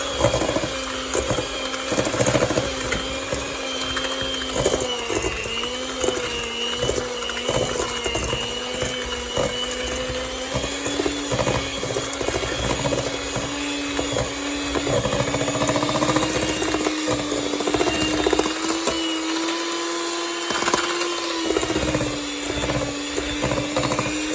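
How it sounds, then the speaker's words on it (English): Electric mixer whirring steadily at low speed while mixing batter for an orange marmalade cake, a continuous motor hum with rhythmic rattling from the bowl, fairly loud and close, no talk. "Right, let's get the mixer on."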